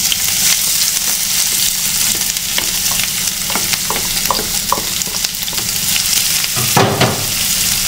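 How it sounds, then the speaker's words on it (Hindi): Onion, garlic and green chilli sautéing in oil with hing and whole spices, a steady close sizzle under repeated spoon scrapes and stirring, with a louder clatter near the end and no talking. "तो अभी प्याज को अच्छे से सौते करते हैं, लहसुन लहसुन सब भून जाए।"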